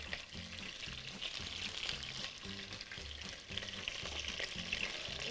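Sofrito for mountain rice sizzles steadily in a pan, a continuous quiet hiss with faint bubbling and a low hum beneath it, no voices.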